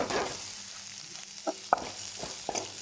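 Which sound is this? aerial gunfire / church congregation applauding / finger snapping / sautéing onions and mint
sautéing onions and mint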